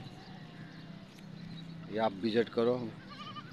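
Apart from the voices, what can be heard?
goats at a goat market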